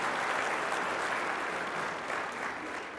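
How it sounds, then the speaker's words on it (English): An audience applauds council members at a chamber of commerce leadership address, a continuous wash of clapping that holds steady for three seconds. "So round of applause."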